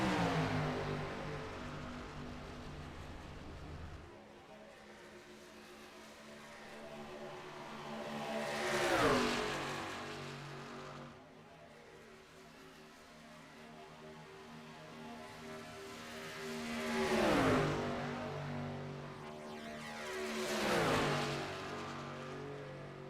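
NASCAR trucks race in an iRacing video game, engines droning steadily with three loud swells as trucks roar past close by and fade away.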